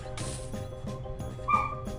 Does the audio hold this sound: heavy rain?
no